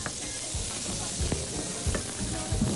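Chorizo sizzles steadily in a pan, a constant close frying hiss with occasional soft pops and scrapes of stirring.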